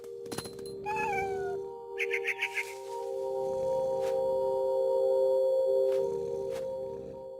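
A cat from the video game The Remains of Edith Finch gives one clear, rising meow, followed by a short chattering series of chirps, all over a steady low game ambience hum.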